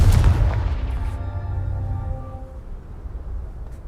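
A Confringo fire spell from Hogwarts Legacy bursts loud and close with a heavy booming blast, then rolls off into a rumbling, ringing tail that fades over a few seconds.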